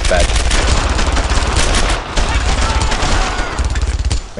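Dense gunfire in the WWII shooter Brothers In Arms: Earned In Blood, rapid machine-gun bursts and rifle shots crackling continuously and loudly with battlefield rumble throughout.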